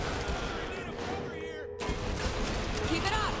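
Video game gunfire from Saints Row: The Third, a burst of sharp shots with an abrupt cut and more shots following, mixed with game sounds at moderate level.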